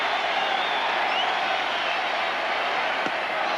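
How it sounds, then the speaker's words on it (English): A Baltimore crowd at a 1983 World Series baseball game cheering, a broad, continuous roar of distant voices filling the stadium without pause. "the Baltimore crowd trying to get their ball players up"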